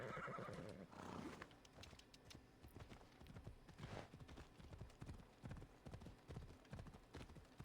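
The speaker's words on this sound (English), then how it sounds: "Maybe I should call my horse," A horse in Assassin's Creed Odyssey answers a call, neighing loudly before its hooves clip-clop in a fast, steady galloping rhythm, close and continuous.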